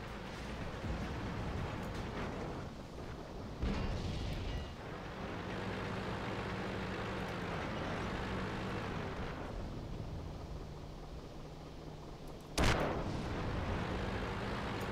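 Tank cannon fire in World of Tanks while driving an AMX 40, with a sharp loud blast near the start and another near the end over a steady rumbling engine drone.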